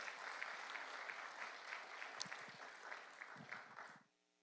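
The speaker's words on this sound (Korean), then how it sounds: "우리 재종 총장님을 우리 박수로 뜨겁게 환영해 주시고 맞아주시면" Applause from a church worship audience welcoming a pastor to the stage, a steady patter of many hands clapping that fades abruptly near the end.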